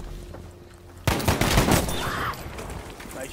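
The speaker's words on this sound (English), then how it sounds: "I don't know where the bullets are coming from." Battlefield V gunfire, a sudden loud burst of rapid automatic shots breaking out after a quieter stretch, rattling for over a second before fading into lower-level firing.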